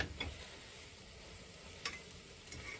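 Quiet, continuous sizzling of scrambled eggs frying in a cast iron skillet, with a few faint scraping clicks from stirring.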